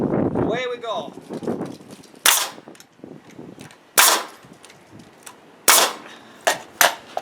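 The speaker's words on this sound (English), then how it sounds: "I'm not going to bore you with using the nail gun and show you every board." A Bostitch pneumatic framing nailer drives nails into timber wall framing for a garden shed, giving five sharp, loud, evenly spaced bangs with brief ringing tails after some quiet handling noise.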